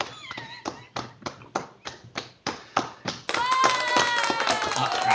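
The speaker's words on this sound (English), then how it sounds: "Let's clap anyway." Clapping at a socially distanced showcase: about a dozen separate, evenly spaced claps in a steady rhythm, close and distinct, followed by a burst of brighter, ringing sound that takes over the last seconds.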